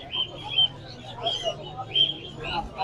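Pigeons at a busy pigeon market in Mirpur, Bangladesh, with soft chirps and faint calls scattered over a murmuring crowd, the birds fairly faint and intermittent beneath background voices.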